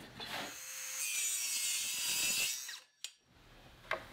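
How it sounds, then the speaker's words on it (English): A circular saw running along a straight-line rip jig cuts through cherry plywood for a cabinet top, giving a loud sustained whine and rasp that stops abruptly, followed by a few sharp knocks. "I'm using a straight line rip jig and the circular saw to cut off this piece of plywood."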